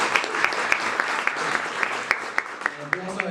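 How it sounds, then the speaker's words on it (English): Premiere audience breaks into warm, steady applause, a dense wash of many hands clapping with sharper individual claps popping out, close and fairly loud, and a voice comes in near the end. "Let's give him a round of applause, even though he's not here."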